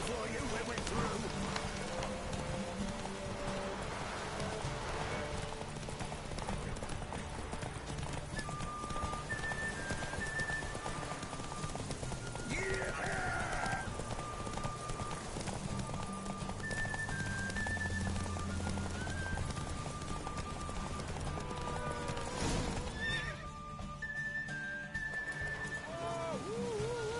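Horse hooves galloping steadily in The Witcher 3 video game, a continuous rhythmic clip-clop over a dense bed of game ambience and music, with occasional talk between characters.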